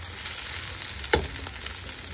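Rui fish frying with onions in a pan, a steady close sizzle with one brief louder crackle partway through and no voices.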